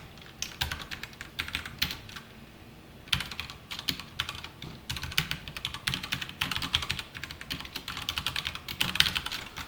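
Rapid, uneven clicking of a computer keyboard being typed on, in close, continuous bursts with a brief pause early on, no voice over it.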